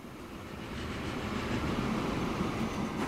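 A farm train rolls past in the rail-building game Transport Fever, a steady low rumble that swells slightly as it goes by, with continuous rail noise and no voices.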